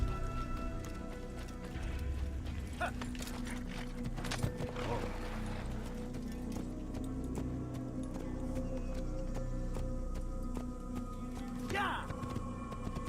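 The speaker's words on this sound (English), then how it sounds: "let's grab a horse" Horse hooves clip-clop at a steady trot through Assassin's Creed, a rhythmic patter under a continuous game soundscape with voices talking over it.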